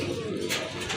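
Pigeons of assorted breeds coo at a large pigeon farm, a low soft cooing over a steady background hum, close and continuous through a brief moment.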